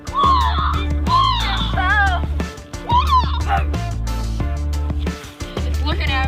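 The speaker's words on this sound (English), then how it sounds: "It's a baby bird. It's stuck." A stuck baby bird calls with repeated high, wavering chirps and squawks, close and loud, over steady background noise.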